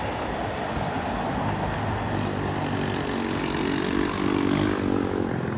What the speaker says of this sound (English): Metro North and Amtrak, they racing.